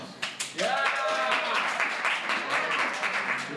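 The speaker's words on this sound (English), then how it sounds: "Round of applause." An improv theater audience breaks into applause, a burst of many hands clapping that starts sharply and holds steady and loud, with voices cheering through it.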